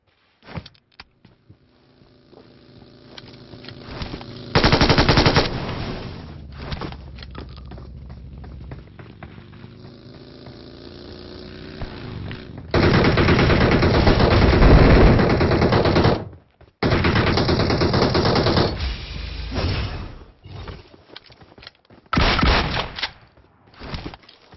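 Machine-gun fire rattles in PUBG Mobile, several long sustained bursts with short gaps between them, loud and close, over background game ambience.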